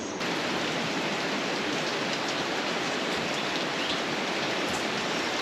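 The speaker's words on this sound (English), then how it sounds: "it doesn't look like the rain is letting up" Steady heavy rain falling around a bamboo house in Bali, a dense continuous hiss of drops on surfaces, loud and close with no break.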